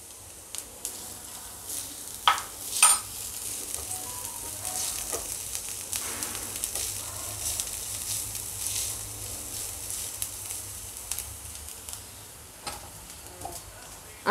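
Onion fries in a pan with a pinch of asafoetida, giving a soft, steady sizzle close by, with a few sharp clinks and stirring taps scattered over it.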